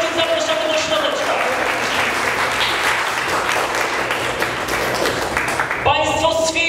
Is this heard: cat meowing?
no